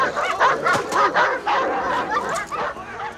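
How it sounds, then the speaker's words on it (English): A small dog yaps and whimpers in a 1984 comedy film scene, a run of quick high-pitched barks repeating close and fairly loud over background sound. "Where's the tiny dog come from?"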